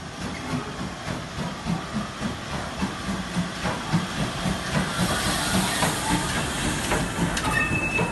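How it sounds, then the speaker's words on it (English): Steam train at a railway, a continuous broadband hiss of steam with a faint rhythmic rumble and clatter beneath, growing brighter and louder in the second half, with no talking. "today we're going on a steam train"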